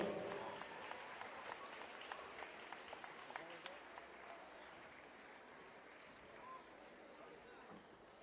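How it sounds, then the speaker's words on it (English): Supporters at a high school women's varsity volleyball match get a round of applause in the gym, steady crowd clapping at moderate distance that slowly thins over several seconds, with some voices underneath. "Let's give Chloe and Pixie a round of applause for their support."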